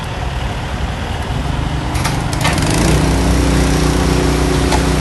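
A truck engine roars on a rainy-season street in Phuket Town, a loud, steady motor drone that swells and grows harsher partway through, with other traffic sounds mixed in and no talking.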